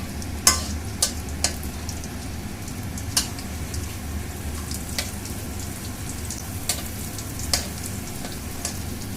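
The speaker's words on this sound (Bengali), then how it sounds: "এখানে রসুন আছে, রসুন, পেঁয়াজ, এগুলো একটু ভালো মতো হয়ে নেব।" Garlic and onion fry in a pan for khichuri, a steady soft sizzle running throughout, punctuated by occasional sharp clicks and taps of utensil contact at irregular intervals.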